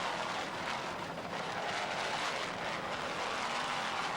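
A 46-foot Skater powerboat with twin 900-horsepower Mercury inboards and MerCruiser drives runs across rough, bumpy open water, its engines and the rushing wind making a loud, unbroken roar with no talk.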